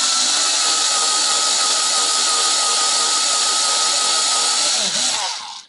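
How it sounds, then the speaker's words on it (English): A small Ryobi Ergo 4V cordless screwdriver countersinking a hole in wood whirs at a high steady pitch for about five seconds, then spins down and stops. "let's see if it'll countersink a hole"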